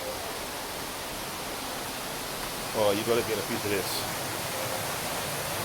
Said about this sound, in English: Underneath the waterfall.